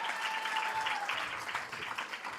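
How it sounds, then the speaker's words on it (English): Applause from an audience at a county schools sports awards ceremony, steady crowd clapping filling the whole moment with no talk over it. "Clap it up for Mr. Braylon Jakes."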